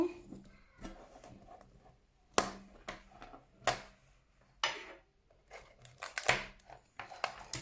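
A cardboard box of LOL Surprise Boys toy cards is opened by hand, producing quiet, scattered clicks, snaps and papery rustles close up, with sharp taps standing out against near silence.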